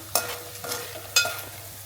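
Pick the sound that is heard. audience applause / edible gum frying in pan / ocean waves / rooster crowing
edible gum frying in pan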